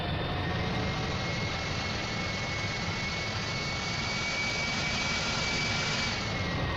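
Jet airliner engines roar during takeoff in a Roblox flight game: a loud, steady, broadband rumble with a thin high whine running through it, continuous and with no voices.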